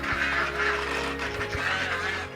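Ducks on a farm that also keeps cows, goats and hens give repeated nasal honking quacks at moderate distance, a few calls in a row over steady outdoor background.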